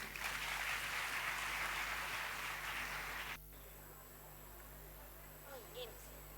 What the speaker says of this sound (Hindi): तालियों की गूंज से उनका स्वागत करें।